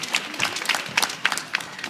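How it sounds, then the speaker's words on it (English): Applause for a child's picture at a summer camp, with a scattering of claps from a small group, fairly close and moderately loud, over about two seconds. "Let's give him a big round of applause"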